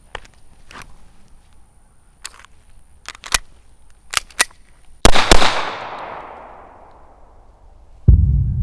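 A Langdon Tactical Beretta 92 pistol fires one loud, sharp shot with a long echoing decay outdoors, preceded by light clicks and handling sounds, then a second loud burst near the end.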